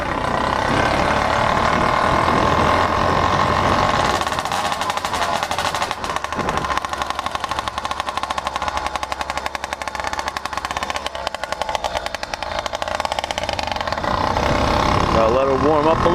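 80cc motorized bicycle two-stroke engine idling as it warms up after a case swap, a loud continuous rapid popping putter that holds steady throughout.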